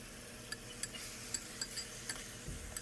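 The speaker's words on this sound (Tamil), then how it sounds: "சிக்கனை ஒரு பெரட்டி விட்டுட்டு" Chicken is stirred and sautéed in a pan for oven-made restaurant-style chicken dum biryani. A soft, low sizzle sits under quiet, regular metal scrapes and clinks from the spoon, about every third of a second.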